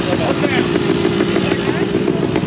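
A two-stroke motocross motorcycle engine runs at a local motocross track, a close, buzzing, sputtering drone that keeps going throughout with small fluctuations, along with what may be crowd or voice noise.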